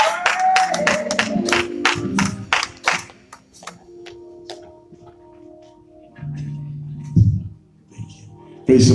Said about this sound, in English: Let's give him a hand clap as he comes.